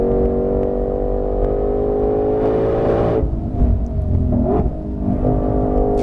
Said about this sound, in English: This engine just sounds fantastic